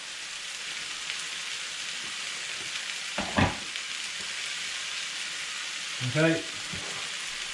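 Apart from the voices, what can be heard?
stirring stock into bolognese sauce in pan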